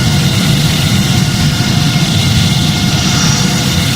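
Simulated Boeing 787-9 jet engines roar at takeoff rotation in the Project Flight game, a loud, steady broadband rush with heavy low rumble and no letup.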